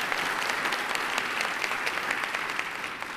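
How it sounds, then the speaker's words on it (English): A crowd at a national town hall meeting gives Speaker Pelosi another round of applause, a full, continuous clatter of many hands, fairly close and steady, with no talking over it. "Give Speaker Pelosi another round of applause."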